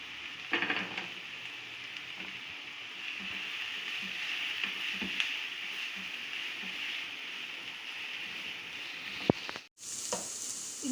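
Fennel, cumin and dried coriander seeds crackle in hot oil for a bhindi masala, a steady, close, bright sizzle that runs throughout with a few small pops and a brief utensil clink near the end.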